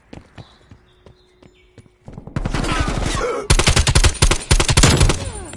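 Gunfire in a shooting video game starts as a few sparse, sharp shots, then breaks into loud, dense, rapid volleys for the rest of the clip.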